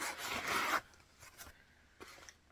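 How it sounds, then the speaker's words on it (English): Zipper on a clear view zip pocket of a handbag pulled open in one quick, close rasping stroke, followed by faint rustling and handling of the bag; no talking. "you have a clear view zip pocket along the front"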